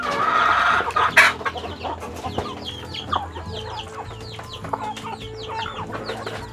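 Free-range native chickens, including Black Australorp and Orpington hens, cluck repeatedly around a bamboo coop, with a sharp louder squawk early on and a steady scatter of nearby clucks.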